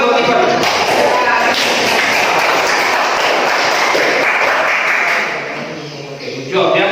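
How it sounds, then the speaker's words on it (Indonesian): Classroom applause for a student, a sustained burst of many hands clapping at close range, steady and dense for several seconds before tapering near the end. "Ya, tepuk tangan buat Iqbal"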